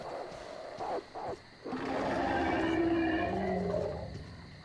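A deep, drawn-out bear roar in the video game Metro Exodus swells up and holds for a couple of seconds, rumbling loudly before fading, after a few brief lower growls.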